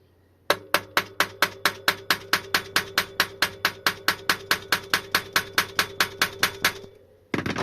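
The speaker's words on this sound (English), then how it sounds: "And you hammer them in" Cheap bolt extractors are hammered into a bolt during a Powacycle Salisbury hub motor gear replacement: about thirty sharp, evenly spaced metallic strikes in a fast steady rhythm, loud and close, with no talk.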